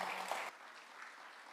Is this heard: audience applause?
yes